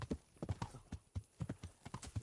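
A horse's hooves clip-clop at a walk in the medieval video game Kingdom Come: Deliverance, an even, close, rhythmic series of hoof strikes with no other sound over it.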